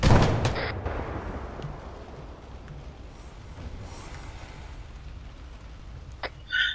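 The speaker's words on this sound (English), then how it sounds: "did you just shoot the mine?" A loud blast at the start decays into a long rumbling tail as a mine is shot in a tactical military video game, followed by a faint electronic beep and a short burst near the end.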